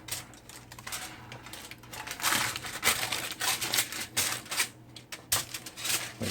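Parchment or foil pan lining being folded for brownies, close crinkling and crumpling in uneven bursts over a low steady hum.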